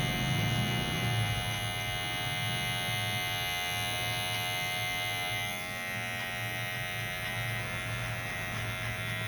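Electric hair clipper set to zero buzzing steadily through a military haircut, a close, constant whirring hum with slight shifts as the blades move through hair.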